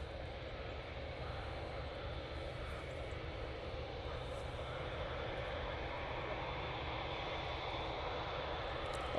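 A Boeing 787-9 Dreamliner in Emirates Courier Express livery comes in to land at Manchester, a steady, broad jet roar heard from a distance that holds even and fairly faint throughout.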